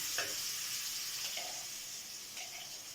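Garlic sizzles steadily in a hot pan while an okra dish is cooked, a continuous close frying hiss with a few soft stirring scrapes and no talking.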